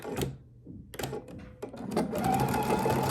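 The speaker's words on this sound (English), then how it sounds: "we're just going to stitch our 1/4 inch seam allowance" A sewing machine stitches a quarter-inch seam in quilt pieces, running in short bursts with pauses, then in a steady whirring run, close up with no talk.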